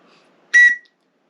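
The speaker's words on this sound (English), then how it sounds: "There's a BCB International whistle." A BCB International plastic survival whistle gives one short, shrill, loud blast of about a third of a second, then falls silent.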